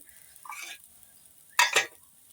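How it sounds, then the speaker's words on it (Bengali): Pulao rice being stirred as it fries in a pan for coriander chicken pulao: two short scraping, sizzling bursts, a softer one early and a louder one near the end, with quiet between them. "পোলাওয়ের চালটা খুব ঘন ঘন নাড়তে হবে যাতে লাগে না যায়।"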